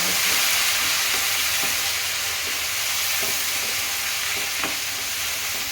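Vegetable sambar sizzles steadily in a pot while a spoon stirs through it, giving soft periodic scrapes and knocks over a constant close hiss.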